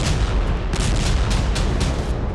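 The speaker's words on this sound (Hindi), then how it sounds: "गोलाबारी इतनी तेज है कि सिर्फ खेरसोन में ही 400 धमाके हुए हैं।" Russian artillery shelling and explosions in Ukraine's Kherson area, heard as a dense, continuous rumble with repeated sharp blasts and cracks every half second or so, steady and loud throughout.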